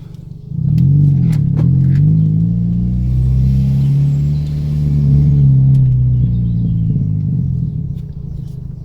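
A car rolls over a bumpy road, heard from inside as a loud, steady low rumble of engine and tyres that swells slightly and carries a few light knocks, with no talking.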